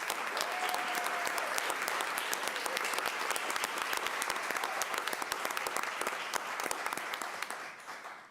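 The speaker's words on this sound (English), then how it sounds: "Please join me in a round of applause for all of these district winners." At a Board of Education meeting, attendees applaud district award winners with steady, continuous group clapping that tapers off at the very end.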